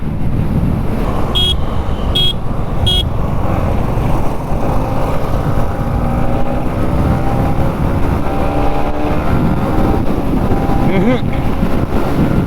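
A Royal Enfield Meteor 350 and a Yamaha MT-15 in a highway drag race, their engines rising in pitch through the gears under heavy wind rush, with a few short high beeps early on.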